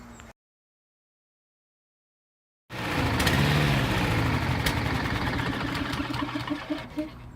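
A Hayter Harrier lawn mower's small petrol engine starts after a short silent gap and runs steadily nearby, a loud continuous mechanical drone with some rough, uneven pulses toward the end.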